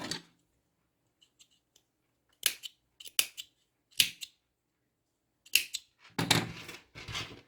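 Scissors snip through the ends of crochet yarn in a series of sharp, close cuts, some in quick pairs and others spaced by short pauses, with a few denser rustling snips near the end and no talk.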